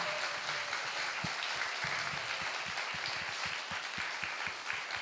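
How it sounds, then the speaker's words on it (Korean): Audience at a Korean talk show giving warm, steady applause, with individual claps standing out against the continuous patter, sustained for several seconds. "박수 한번 주세요."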